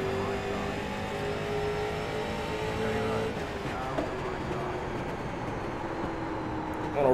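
Race car engine in the iRacing sim, a rookie street stock at USA International Speedway, droning steadily under throttle with a rising harmonic whine, a continuous loud engine tone throughout with no talk.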